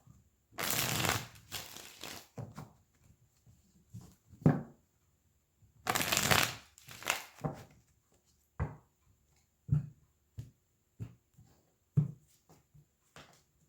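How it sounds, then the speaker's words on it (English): Tarot cards are shuffled in repeated bursts, with two longer riffling runs followed by a series of short taps and card slaps, close and fairly quiet. "let's pull a couple cards for love"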